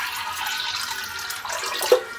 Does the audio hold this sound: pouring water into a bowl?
yes